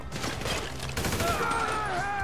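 Rapid bursts of GTA 5 gunfire crackle in quick succession, with a voice speaking briefly over the shooting.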